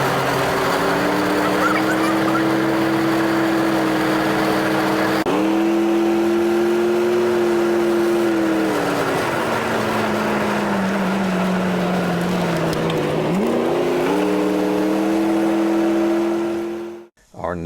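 Cobra sports cars driving winding roads along Highway 1 through redwood forest, with a steady, loud engine drone close by, its pitch shifting and dipping through gear changes before cutting off at the end, with narration running over it.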